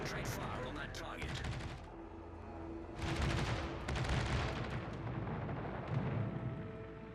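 Naval gunfire in the World of Warships Legends video game, with heavy booming salvos and crackling bursts in clusters near the start and again from the middle onward, loud against a rumbling background.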